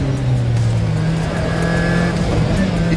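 A supercharged and turbocharged car engine driving fast on a rally course, a loud, continuous roar holding steady then shifting pitch, with a faint high whine riding above it.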